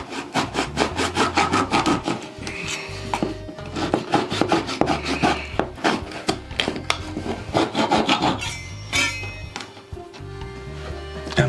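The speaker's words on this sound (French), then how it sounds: "un petit outil qui est une scie à raser, qui va me permettre de découper en fait le plastique" A flush-cut saw rasps back and forth through a protruding plastic dowel in quick, steady strokes, close and loud, with brief pauses between bursts of cutting.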